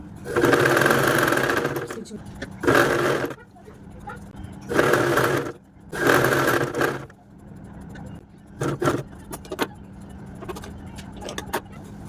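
Sewing machine stitching lining and cloth for a kids' frock in several short bursts of rapid needle rattling, close and loud, separated by pauses with handling noises, while someone talks throughout.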